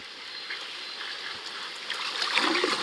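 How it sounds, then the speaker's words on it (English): Underwater ambience of a glacial lagoon in Kenai Fjords, a steady hissing wash with soft trickling and faint bubbling, swelling slightly toward the end. "Listen to sounds of the lagoon from underneath its surface."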